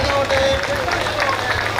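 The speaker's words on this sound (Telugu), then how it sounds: "రెడీ, ఇప్పుడు కొట్టండి చప్పట్లు గట్టిగానే." Crowd of people clapping loudly at the grand opening ceremony of a township in Ongole, a dense steady wash of applause under loudspeaker hum and background chatter.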